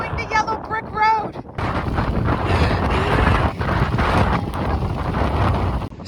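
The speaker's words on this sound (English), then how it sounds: "It is still incredibly windy, even though we are now sheltered from the rain." Strong wind roars and buffets the microphone in a constant heavy rush, after a brief opening stretch of calmer sound.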